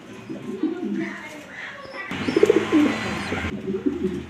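Domestic pigeons, a breeding pair with eggs, coo close by in repeated soft, throaty bursts with some faint chirps mixed in, set against low background noise.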